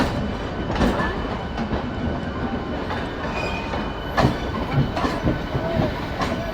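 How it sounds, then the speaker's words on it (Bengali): The 12311 Howrah–Kalka Netaji Express (Kalka Mail) with LHB coaches pulls out of platform 9 at Howrah station at night, its wheels clattering close by in a steady rhythm with occasional sharper knocks. "রাতের অন্ধকারে হাওড়া স্টেশনের 9 নম্বর প্ল্যাটফর্ম থেকে বেরিয়ে যাচ্ছে কিংবদন্তি কালকা মেল বা নেতাজি এক্সপ্রেস।"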